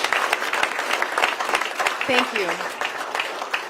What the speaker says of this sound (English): I'd like to have a round of applause for all the parents that brought their kids down here today